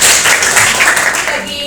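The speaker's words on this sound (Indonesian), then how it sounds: "kasih tepuk tangan" A classroom of students in Indonesia applauds together, steady dense clapping running close and loud for the whole moment without a break.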